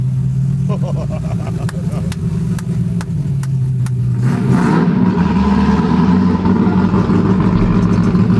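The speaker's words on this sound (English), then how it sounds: "Car's so rowdy, dude." A track-built 1965 Ford Mustang Fastback's engine idles roughly nearby, then revs up and holds at a louder, deeper roar, with faint ticking early on.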